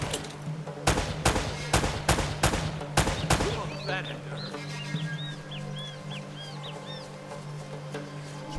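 AK rifle gunfire in the video game Uncharted: Drake's Fortune: several rapid, loud bursts in quick succession over about three seconds, then the shooting stops and scattered bird calls continue over a steady background hum.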